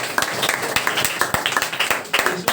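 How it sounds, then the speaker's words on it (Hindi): A church congregation claps for God during a worship service, giving a short burst of dense, sharp hand claps that blend into steady applause. "परमेश्वर को एक जोरदार ताली देंगे।"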